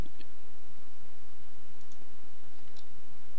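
A few sharp, quiet computer mouse clicks in the Arma 3 launcher, spaced irregularly over a steady background hiss, with no talking.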